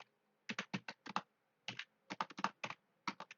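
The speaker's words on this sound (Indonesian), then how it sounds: "lalu kita ketikkan no network" Router configuration commands typed on a computer keyboard: quick clusters of crisp close key clicks in bursts with short pauses between, no talk.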